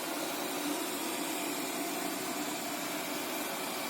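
A Cecotec Conga 3290 robot vacuum cleaner runs in eco mode, its lowest power setting, giving a steady, even whirring hum of motor and airflow that holds constant throughout, with no talking.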